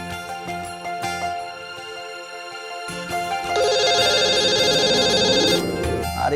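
A telephone ringtone plays in a Hindi drama scene, a repeating electronic melody that gets louder and denser midway before cutting off, with no talk over it.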